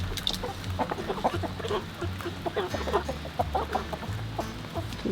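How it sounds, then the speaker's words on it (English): Hens in a backyard chicken coop cluck and murmur steadily near at hand, soft overlapping calls over a low background hum. "let's go check on the coop and see what our hens are doing with those nesting pads"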